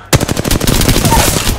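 Automatic gunfire in a video game cracks out in one fast, loud, evenly spaced burst of about a dozen shots, up close and without pause, with no talk.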